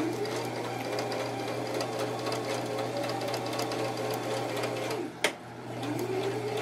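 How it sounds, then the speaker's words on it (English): A sewing machine runs steadily through the whole stretch, stitching a fabric tablet cover, with one sharp knock near the end and no talking. "Get a few stitches in, back stitch."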